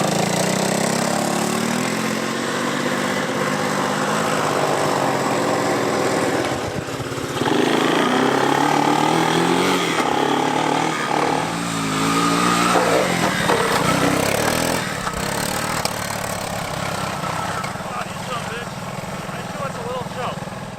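An old, long-abandoned 200 three-wheeler ATV, ridden for the first time in ten years on a river run, drones and surges continuously as the throttle rises and falls, with occasional voices over the engine.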